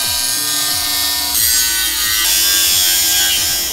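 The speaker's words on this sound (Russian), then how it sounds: "Теперь пилим." A hand saw cuts a plate for an add-on fuse box on a UAZ 3151, giving steady, rhythmic rasping strokes close up, slightly louder in the second half, with no voices.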